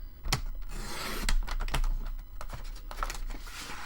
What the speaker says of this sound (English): Isn't it fun watching people cut paper?